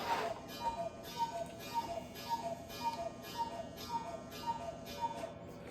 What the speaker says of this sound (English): every hour on the hour it chimes how many times it is, whatever time it is